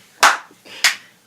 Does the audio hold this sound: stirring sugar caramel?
no